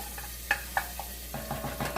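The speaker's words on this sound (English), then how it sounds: "So you hear the sizzle." Soft sizzling of a dish with cream and cheese in a saute pan, with a few clinks and stirring sounds, close by, no voices.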